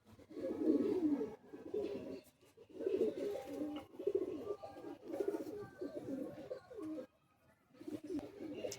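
Pigeons coo in a loft in Bagnan, a steady low warbling chorus rising and falling in repeated bursts, close and fairly loud, with a brief quiet gap before the cooing resumes.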